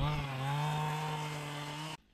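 A chainsaw running near a bush airstrip, its engine droning at a steady high pitch for about two seconds before cutting off abruptly into quiet.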